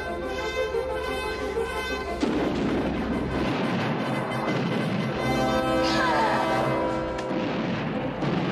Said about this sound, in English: They're shooting us!